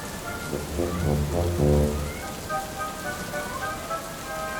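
Rain falls in a steady wash of patter, while a tonal voice-like sound rises early and faint high tones linger near the end.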